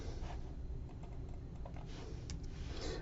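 Quick, light keystrokes on a Mac computer keyboard, a short run of soft taps close to the microphone over a faint background hum.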